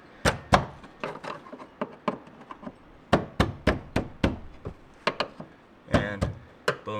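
Sharp metal strikes on a pry bar or screwdriver, used to pop a part off an Audi B5 A4, come in irregular clusters of loud, close knocks with short pauses between them.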